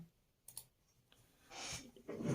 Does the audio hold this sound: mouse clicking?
yes